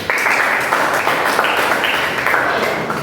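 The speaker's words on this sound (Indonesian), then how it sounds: "Kita kasih aplaus" A classroom audience claps for a student group finishing its presentation, a brief, dense round of applause at close range that stays steady for a few seconds.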